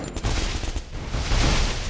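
Rapid gunfire from a shooter video game, a loud, nonstop burst of overlapping shots with a booming low end across the whole short stretch.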